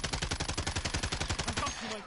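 Rapid automatic gunfire in Call of Duty Warzone during a live match, a steady stream of close, loud shots for nearly two seconds that trails off at the end.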